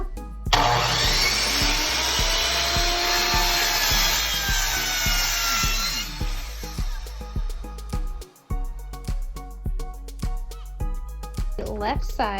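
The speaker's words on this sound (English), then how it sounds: "I'm going to cut the left end of this baseboard at 45" A handsaw cuts the end of a wooden baseboard at a 45-degree angle for a scarf joint, with rapid, rhythmic rasping strokes, loud and close, then slower scattered scrapes and knocks as the cut finishes.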